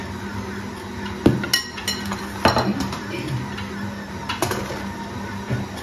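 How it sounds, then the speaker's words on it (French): Ingredients for seeded baguette dough, including rye flour, are stirred in a bowl with a utensil, giving clinking, scraping knocks at irregular intervals over a steady background hum, close and fairly clear. "On remue."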